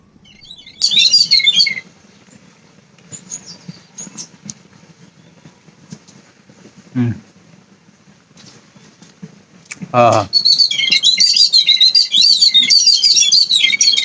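Bursts of high, rapid bird chirping at the start and again through the last few seconds, with faint talk and clatter in between.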